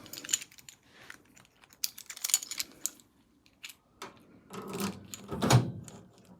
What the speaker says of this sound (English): Locks the drawers too.